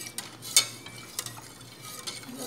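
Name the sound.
stirring banana, sugar and milk mixture while cooking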